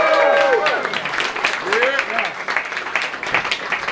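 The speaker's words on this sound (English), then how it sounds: "Let's give a round of applause for the blockchain and Bitcoin." Crowd applause for Bitcoin at an outdoor gathering in Satoshi Square, New York City, scattered clapping mixed with cheering voices and whoops, close and fairly loud.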